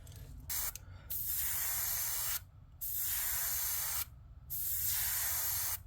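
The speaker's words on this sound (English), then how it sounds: "Just a quick little spray here," Spray paint hisses onto a trout painting in three short bursts separated by brief pauses, close and fairly quiet.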